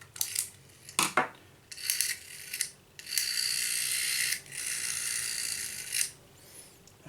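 Small plastic and metal clicks and a longer grinding, ratcheting rasp as the finger wheel of a Trimphone is screwed back into place, close and moderately loud, without any talk.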